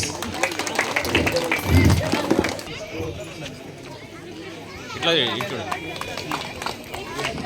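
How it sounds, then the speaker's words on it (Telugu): Crowd claps in a stream of sharp, overlapping hand claps at a Jana Sena flag hoisting ceremony in Chagi village near Adoni, heard close and under loud talking. "అందరూ క్లాప్స్ కొట్టాలి"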